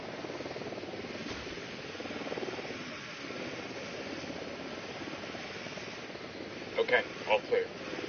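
A helicopter in a video game drones steadily as a low whirring rotor noise, with a voice briefly speaking over it and a few short clicks near the end.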